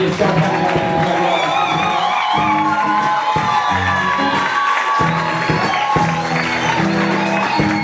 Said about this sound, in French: nous allons applaudir en béni.